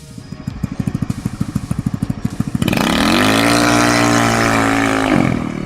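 A Tron Bike MC06 motorcycle with a 150cc Chinese engine chugs in a rapid, even pulsing idle, then roars up to a loud, sustained high rev that holds steady and eases slightly.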